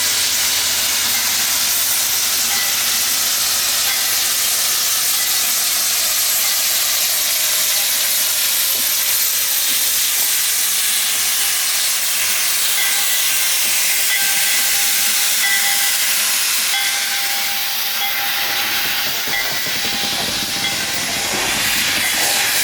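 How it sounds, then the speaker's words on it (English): Steady broadband hiss of escaping steam from a running steam locomotive with a low rumbling engine beneath, continuous and fairly loud throughout, swelling slightly near the end. "the steam locomotive is now running around the train to push it into Willow"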